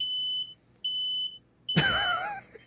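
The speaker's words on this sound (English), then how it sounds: "This is what happens when a white guy has the smoke alarm go off." A smoke alarm going off in a played video gives two sustained high electronic beeps with a short gap between them. A louder, noisier burst with voice-like sound then follows.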